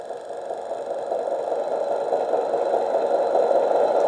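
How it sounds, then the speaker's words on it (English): Simulated truck engine from the custom sound system of a 1/18-scale Capo Tatra RC truck, a steady droning rumble that stays even and slowly grows a little louder throughout, with no talk. "Let's hear the engine rolling."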